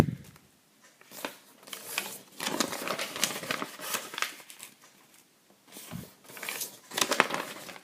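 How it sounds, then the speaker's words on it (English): Green origami paper being folded in half both ways while making a four-chambered gift box, giving close crisp creasing and crinkling rustles in irregular bursts with short quiet gaps between handling sounds. "now we're just going to fold this in half both directions"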